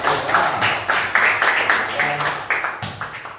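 A classroom group of high school students applauds a presenting group, a burst of rapid claps at close range that carries across the room and gradually thins out, with voices mixed in.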